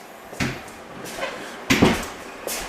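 A door opens and closes with a few short knocks and bumps, the strongest thump near the middle, close by in a quiet room.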